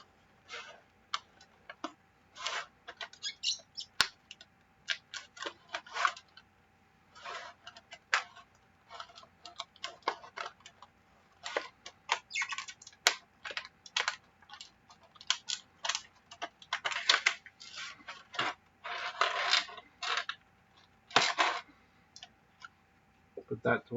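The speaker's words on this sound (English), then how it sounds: "how I get these out of their box is you take an X-Acto blade and cut around the bottom" A sharp X-Acto blade cuts around the bottom of a cardboard box to free Red Bull RB19 model car parts, giving many small, close clicks and scratchy cuts in irregular bursts.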